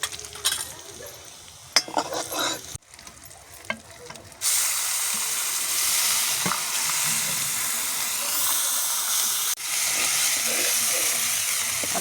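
Homemade spice masala fries in hot oil with garlic, curry leaves and turmeric, a loud continuous sizzle close by, preceded by scraping stirs in the pan.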